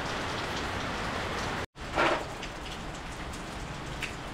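Steady rain pours onto a roof deck in a hissing wash of drops. There is a momentary cut, then a slightly louder burst before the rain settles back to a constant patter.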